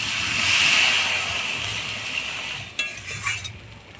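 Vegetables with green chilies are stirred in a cooking pan over a steady hiss of frying, with a few metallic clinks and scrapes of the utensil toward the end.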